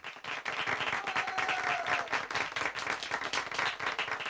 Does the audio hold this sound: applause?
yes